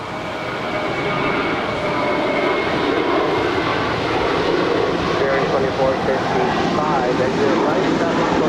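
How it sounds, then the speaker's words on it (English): A KLM Boeing 777-200ER arriving at LAX from Amsterdam gives a continuous, loud jet engine roar that holds steady throughout, with someone talking over it. "tracking KLM 603 coming in from Amsterdam on a"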